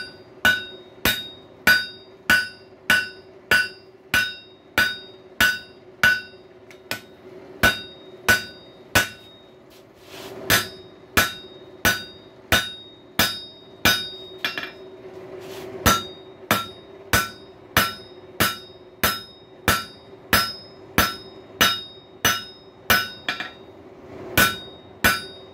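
Rapid, evenly spaced hammer blows ring out on a rail spike worked over the rounded edge of an anvil, loud and close, in bursts of bright metallic strikes with short pauses between runs.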